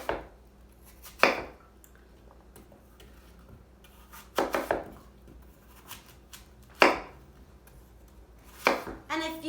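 A knife slices through apples for an apple cobbler, giving several separate crisp cuts a few seconds apart, close by and moderately loud against a quiet room.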